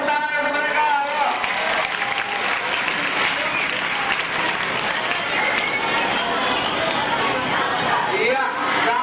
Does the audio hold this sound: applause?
yes